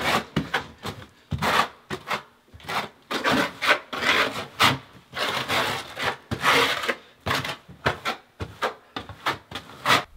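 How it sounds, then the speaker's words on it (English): Steel trowel scraping and pressing Ardex X5 modified thin-set mortar into a shower substrate, flat side first, heard as repeated close rasping, rubbing strokes in an irregular rhythm with no talk. "Burn it into the substrate with the flat side of the trowel first."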